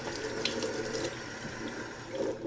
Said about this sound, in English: Now I'm gonna take some water and just clean the Lego off.